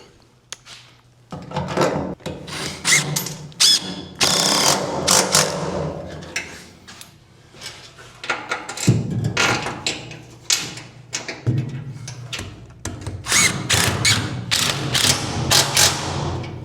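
Lag bolts driven through the bed of a 1967 Chevrolet C10 pickup into wood, heard as repeated close ratcheting and clicking mechanical bursts with short pauses between runs.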